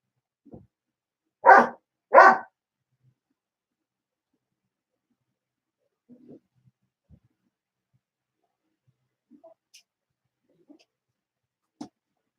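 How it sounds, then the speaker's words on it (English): Two loud dog barks in quick succession near the start, followed by long quiet stretches with a few faint small noises. "I don't know what you're barking for."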